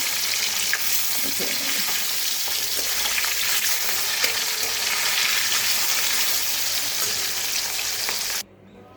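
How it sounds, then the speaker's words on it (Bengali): Pieces of hilsa fish lightly frying in hot oil, a steady dense sizzle that stays loud and even for several seconds with small crackles, then cuts off abruptly near the end. "বেশি ভাজবো না একদম হালকা ভেজে"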